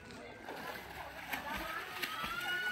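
Water sloshing and splashing in a swimming pool during a birthday pool party, a short busy wash of splatter with a couple of sharper hits, heard under a speaking voice.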